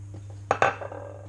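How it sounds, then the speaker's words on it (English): Butter and lardons going into a pan for rabbit liver pâté, two sharp metallic clanks of utensil on pan followed by lighter clatter in a quiet kitchen. "add my butter first, and this is just nice gentle cooking when you make pâté, and then I'm going to add in the lardons"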